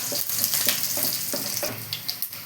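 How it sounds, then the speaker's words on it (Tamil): Vegetables for avial sauté in a pan with a steady sizzle, broken by regular scraping and stirring strokes and a few light knocks of the utensil. "நல்லா வதக்கிடலாம் நல்லா வதக்கி விட்டுக்கலாம்"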